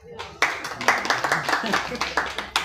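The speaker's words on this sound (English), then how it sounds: "You can clap." An audience claps in uneven bursts at a Mukono Municipality meeting in Uganda, the applause fairly close and loud, with a voice speaking over the clapping.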